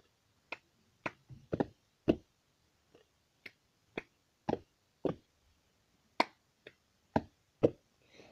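Hand claps and cups struck on a tabletop in the cup song with four cups, sharp isolated hits in a loose, repeating rhythm, close and fairly quiet, with no talking.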